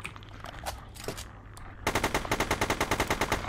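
Rapid automatic gunfire from an indie zombie video game shooting at a destructible block, a quick even burst of about fifteen close, loud shots following a few scattered quieter shots and soft game noise.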